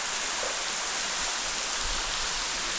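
A waterfall at Springbrook Pinnacle sends out a steady, dense rush of falling water close by, a constant hiss with no breaks and no voices.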